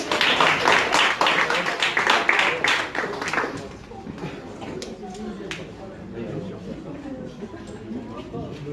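Audience at a lakeside campsite show applauding, a burst of dense clapping for the first few seconds that fades into crowd murmur and scattered claps.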